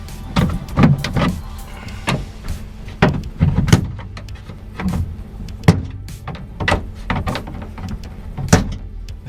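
Plastic trim clips being popped off the rear interior of an EG Honda Civic hatch with a trim remover, a series of sharp close snaps and knocks separated by quieter rustling and handling.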